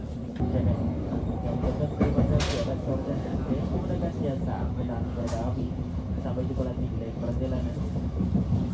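The Tegal Bahari passenger train rumbles steadily along the rails approaching Cirebon Perujakan station, a continuous low roar and rattling heard from inside, with some talking in the background.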